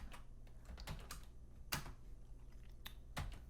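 Computer keys being pressed for network address setup on a Linux system: a handful of sparse, separate clicks and clacks, fairly close and quiet over a low background hum, with no talking.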